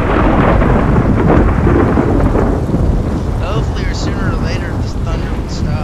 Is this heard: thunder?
yes